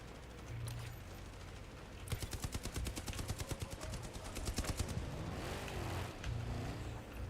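Rapid automatic gunfire in a video game shooting at turrets and satellites, rattling in quick repeated bursts over a faint engine-like background hum.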